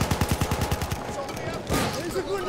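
Rapid automatic gunfire rattles in Battlefield 1 as a quick burst of closely spaced shots, followed by scattered booms and a person talking.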